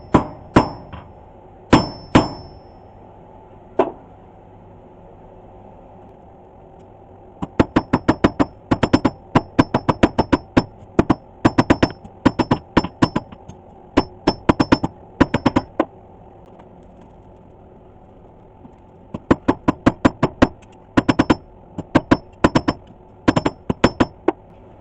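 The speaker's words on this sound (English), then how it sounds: "I switch to the other side and just do a general light flattening pass just to clean up the faces and straighten out the work" Hot steel hammered on an anvil during a light flattening pass while forging a simple knife: loud, sharp ringing clangs in quick bursts of many blows, separated by short pauses.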